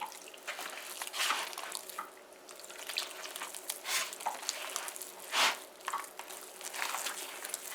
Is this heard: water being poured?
yes